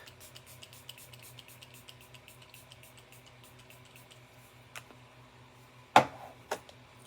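Two quick hissing sprays close by from a pump makeup setting spray bottle, the first sharp and the second shorter, after a stretch of quiet faint ticking.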